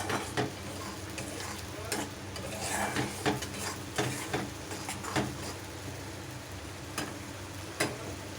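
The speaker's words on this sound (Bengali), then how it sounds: "সম্পূর্ণ শুকনো হওয়া অবধি এটা আমি নাড়াতে থাকবো, শোকাতে দেব।" Pumpkin leaf paste is stirred in a hot pan until dry, producing a close continuous sizzle broken by repeated scraping strokes and sharp taps of a utensil against the pan at an uneven rhythm.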